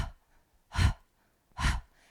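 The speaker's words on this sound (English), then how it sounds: "this is called bellows breathing. So essentially it's panting" Two deep, forceful breaths of bellows breathing, open-mouthed panting from the belly, each a breathy whoosh with a low rush, separated by a pause of quiet.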